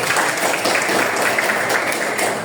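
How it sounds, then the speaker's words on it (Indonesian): Steady applause from a group, a dense wash of clapping that continues evenly throughout. "Tepuk tangan buat semuanya."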